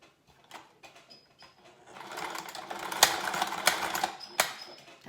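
A sewing machine stitches a seam on a window valance, starting after a short quiet pause and running as a steady, fairly soft whir with rapid mechanical ticking and a few sharper clicks.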